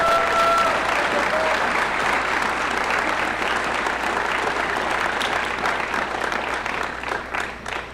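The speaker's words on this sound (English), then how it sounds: "Let's give her a big round of applause." A crowd at a high school academic awards night claps warmly and continuously for about eight seconds, the applause thick and steady before thinning slightly toward the end.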